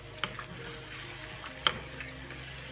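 Curry goat simmers in gravy in a pot, giving a soft, steady bubbling sizzle with two brief clinks of a utensil against the pot.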